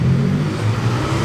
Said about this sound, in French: Bruyante cette M4.